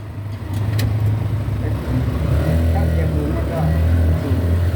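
A 150cc three-wheeler motorcycle engine runs in first gear with a low, steady rumbling drone that holds throughout, close by, with faint voices in the background.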